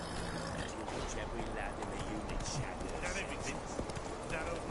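Horse hooves clip-clop steadily in The Witcher video game, a light, continuous trotting patter under a quiet ambient backdrop.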